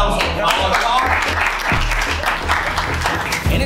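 Applause from a studio audience at a TikTok dating show, broadband clapping running steadily through the clip over a low rhythmic music beat, with voices mixed in.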